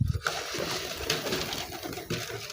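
Pigeons coo at feeding time in sunshine, soft throaty calls rising over a steady rustling background, close and moderately loud, with no voice over them.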